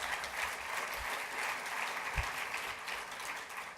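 Audience applause at a medical society presidential address, a steady wash of clapping from a large crowd that fills the whole stretch at even loudness.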